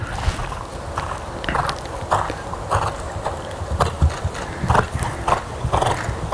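A horse jumping a course of fences in succession, with hoofbeats thudding rhythmically over steady outdoor noise, moderately close and continuous.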